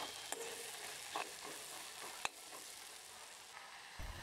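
Chilli, curry leaves and celery fry quietly in a pan, giving a soft steady sizzle broken by occasional clicks of a stirring utensil against the pan.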